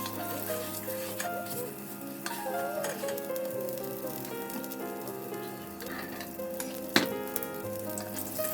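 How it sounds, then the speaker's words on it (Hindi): Methi aloo paratha frying in ghee, a steady close sizzle with crackling spatters and a sharp pop near the end, over low background music. "और फिर मैंने इसे घी के साथ जो है वो फ्राई कर लिया है।"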